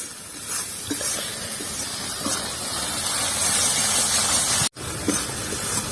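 Poppy seed and cashew paste being stirred in a frying pan for a pabda fish curry, giving a steady loud sizzle and hiss with soft scraping strokes throughout and a momentary break near the end.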